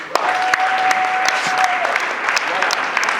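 Loud applause from a theatre audience, a dense sustained clatter of clapping with scattered sharp claps standing out near the front.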